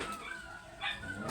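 Dog playfully biting and mouthing, with short whimpering yips and soft growly vocalizations close by, heard briefly and alone.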